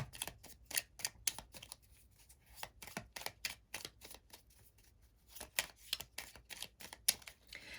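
Tarot cards shuffled and drawn in a quiet room, a run of crisp riffling snaps and soft flicks in uneven bursts, close and fairly faint, with no voices.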